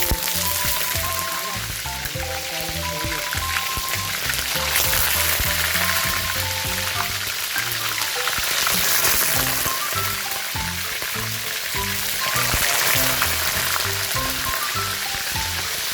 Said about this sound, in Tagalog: magpiprito na tayo ng ating isda na tilapia